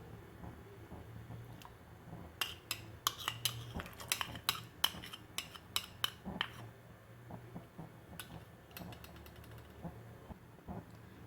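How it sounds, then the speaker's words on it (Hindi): Metal utensils clink and scrape against a cooking pot while it is cleaned. A burst of sharp, close taps comes in the middle, with quieter scrapes before and after and no speech. "बर्तन को अच्छी तरह से साफ़ कर लेना है।"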